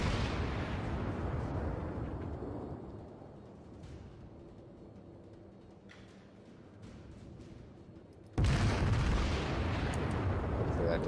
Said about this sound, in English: All right, one ranging shot.